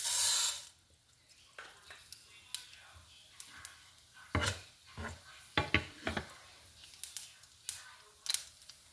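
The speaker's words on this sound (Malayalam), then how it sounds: "അതുപോലെ കടുക് പൊട്ടി തുടങ്ങിയിട്ടുണ്ട്." Mustard seeds pop in a hot pan while koottukari is being made: scattered, sharp, close pops and crackles at an uneven rhythm over a quiet background.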